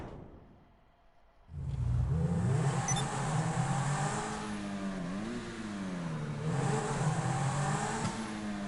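Upgraded car in a Rockstar video game with a level 4 engine, turbo and transmission, bursting from near silence into a loud, sustained acceleration with rising and falling revs through gear changes.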